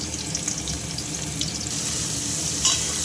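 Steady sizzling of boiled young jackfruit frying in hot oil, a continuous crackling hiss with a few brief clinks, no voices.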